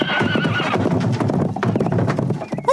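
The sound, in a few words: horse neighing and hooves clip-clopping, animated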